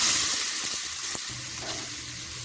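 Sliced plantain sizzling in a spoonful of ghee in a frying pan for a Kerala Onam sadya dish, a steady bright crackle with a brief stir near the middle.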